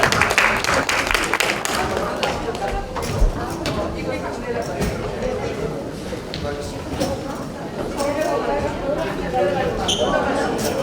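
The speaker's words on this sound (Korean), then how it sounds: "여러분 다시 한번 큰 박수 부탁드립니다" Sustained applause from a forum audience in a National Assembly conference hall, a steady wash of many hands clapping throughout, with a voice speaking over it.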